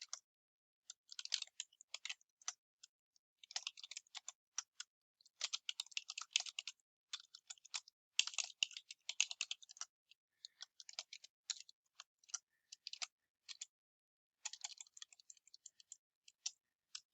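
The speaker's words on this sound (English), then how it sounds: "I'm going to press tab and type my information" Someone types on a computer keyboard in quick irregular bursts of light key clicks with brief pauses between them, fairly faint and close, with no talking.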